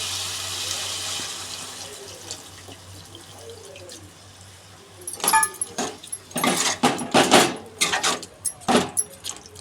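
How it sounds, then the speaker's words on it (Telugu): Water poured into a cooking pot for chicken curry, a hissing wash of pouring that gives way to louder irregular splashes and clunks of the pot in the second half, close and without talk. "ఇప్పుడైతే నీళ్ళు వేసేసుకుందామండి"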